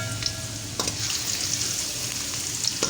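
Chopped onion sautéing in ghee in a kadai, a continuous crackling sizzle punctuated by a few sharp stirring scrapes and clinks, close and steady with no voices.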